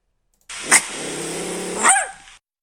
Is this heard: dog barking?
yes